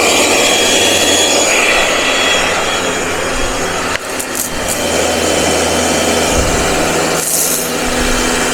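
A garden trimmer whines continuously close by while cutting a small patch of grass, its motor pitch shifting slightly as it works through the growth.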